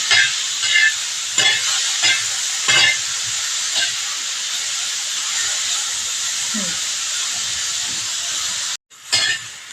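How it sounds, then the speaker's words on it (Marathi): Onion and tomatoes roasting in oil in a pan give a steady close hiss and sizzle throughout, with a few soft stirring scrapes and brief bursts, cutting out for a moment near the end. "हे बघा मस्त कांदा टोमॅटो भाजलेला आहे."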